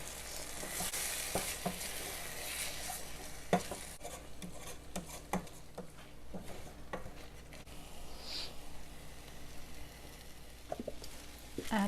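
A raw egg frying and being stirred with cooked tomatoes in a pan for egg biryani, giving a quiet, continuous sizzle broken by scattered clinks and scrapes of a utensil.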